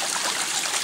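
Water from a koi pond filter trickles through a small handmade garden bridge into a little waterfall, a close, steady splashing babble in a very brief moment.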